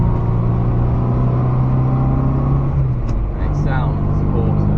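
An Austin A40 Farina running a Morris Minor 1100 engine with a fast road cam and a 1.5-inch SU carburettor, heard from inside while driving: a constant, loud engine drone throughout.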